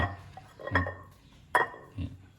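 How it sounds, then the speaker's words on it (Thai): Onion and garlic are pounded in a mortar with pre-made chili paste for spicy minced frog salad, heard as three separate hollow knocks with clinks spaced across a quiet background. "แต่เราก็จะ มาโขกใส่ หัวหอม ใส่กระเทียมเพิ่มขึ้นนะครับ"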